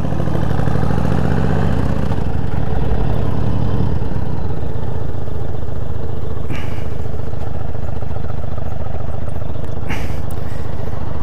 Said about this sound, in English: we start our motorcycle ride at the junction,